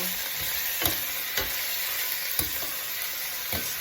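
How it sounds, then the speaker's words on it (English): Garlic and onions frying in a pan sizzle steadily while being stirred, with a few soft scraping strokes of the spoon roughly every second, close and moderately quiet, with no talking. "stir your cooking so that the garlic and the onions will not burn"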